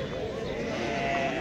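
Sheep bleat amid the crowd at the Thursday livestock souk of Timhdit, mixed in with steady nearby chatter and haggling voices.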